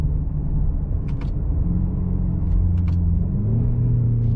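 A 2017 BMW X6 M idling in sport mode, with a deep, steady engine rumble heard close from inside the cabin and a slight rise in pitch near the end, plus a few faint clicks.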